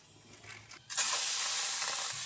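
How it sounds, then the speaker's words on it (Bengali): Prawns hit hot oil with a sudden loud hiss and spatter about a second in, then sizzle steadily and closely, with no talking. "এবার তেলে ভেজে নেবে।"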